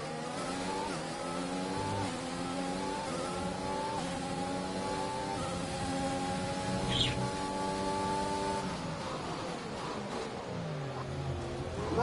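Formula 1 race car engines in the F1 2021 racing game whine steadily at high revs, pitch gliding up and down through gear changes, a continuous loud drone with no speech.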